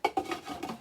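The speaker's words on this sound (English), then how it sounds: "we're just going to go ahead, put that top back on that skillet" Metal lid set back onto a skillet of frying potatoes, onions and bacon, giving a couple of close clanks and a brief rattle as it settles.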